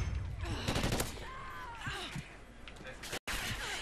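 Bursts of gunfire crackle in Call of Duty: Ghosts team deathmatch, mixed with game effects and someone talking over them, cut briefly by a moment of silence.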